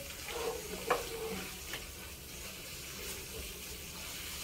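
Ground meat sizzling and frying in a pan while being stirred, a steady soft crackle with a few light scraping knocks of the spoon near the start, close and fairly quiet, no talking.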